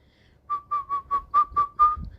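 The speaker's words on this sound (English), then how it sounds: "I'm whistling." Short whistled tune of about seven quick notes at a steady pitch, close and clear against near silence.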